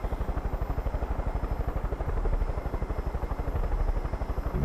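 A helicopter in the video game Far Cry 5 sounds as a steady, fast rotor thumping over a broad engine roar, continuous and fairly loud throughout with no talk.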